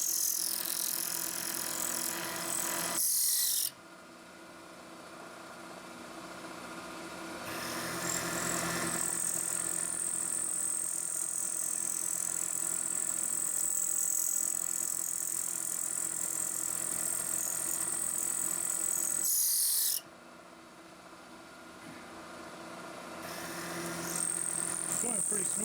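Metal lathe taking light cuts with an axial part centering tool, a steady machining whir with a high whine during the cutting passes, broken by brief quieter pauses where the cut stops and restarts.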